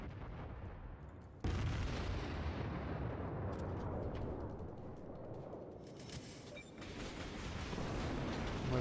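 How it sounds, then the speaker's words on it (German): A heavy naval gun salvo booms in the World of Warships battleship game, a sudden loud blast followed by a long rumbling decay, with a second rumble building near the end. "Man sieht, kaum kommen hier die Schüsse rein"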